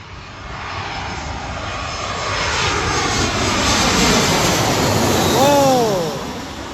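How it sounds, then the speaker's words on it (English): A United Airlines Airbus A320 passes low overhead on its landing approach, its broad jet engine roar swelling steadily, peaking close by with a descending whine, then beginning to fade, with no talk over it. "here comes the A320 United Airlines right above us."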